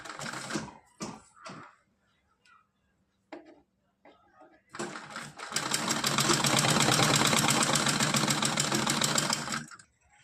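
A sewing machine stitches thin gota patti trim onto a small festive outfit. A few clicks and handling noises come first, then a loud, steady run of stitching lasting several seconds.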